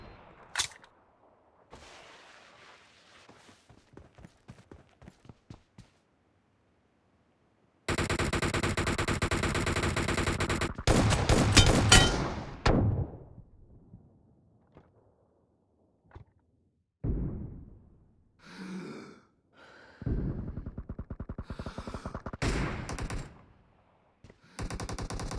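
Rapid S12K shotgun fire in PUBG Mobile comes in loud, dense bursts separated by gaps, with scattered clicks and shorter volleys toward the end.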